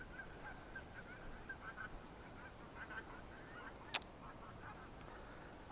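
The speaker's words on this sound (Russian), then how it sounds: "Вот это гусей. Все садятся, ребята. Вся пачка падает." A large flock of geese, around three hundred, landing on floodwater, giving distant overlapping honks in a continuous chorus with one sharp click partway through.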